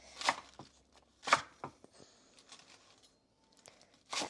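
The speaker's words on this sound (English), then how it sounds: "Then we'll chop up some lettuce." A knife chops through lettuce on a board in a few spaced, crisp, crunchy strokes, near and fairly loud, with quieter rustles of leaves between the cuts.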